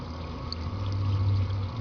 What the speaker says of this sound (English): we have some bubbling here. We have bubbling here.